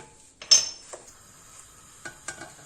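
A cooking pot is set on a stove burner with a sharp metallic clunk, then small pieces of butter drop in, giving a few light knocks and clinks spaced over a couple of seconds in a quiet kitchen.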